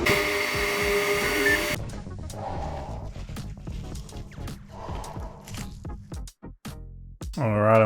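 A 3D printer running while printing a miniature, with a steady mechanical whir and rhythmic stepper-motor buzzes and ticks, moderately loud and close. The pitch shifts as the print head moves, and a brief louder whine comes near the end.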